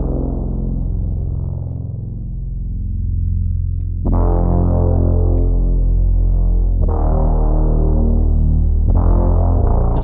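A dark Dune 3 synth preset drones in low, thick, buzzy sustained chords, with a fresh note struck roughly every few seconds over the steady bass, loud and alone.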